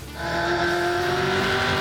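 BP Ultimate race car driven by McIntyre, a loud close engine note holding a sustained high whine with rising pitch over rough low rumble, steady throughout with no voices.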